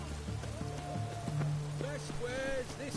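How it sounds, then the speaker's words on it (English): Rain patters steadily in the video game Witcher 3 beneath other in-game sounds, with voices talking over it throughout. "It's damp. It's raining, of course it's going to be damp."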